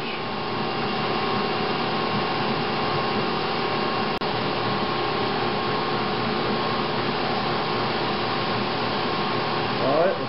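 A bandsaw running idle while warming up before cutting, a steady loud mechanical drone and whir holding constant throughout, with a brief click partway.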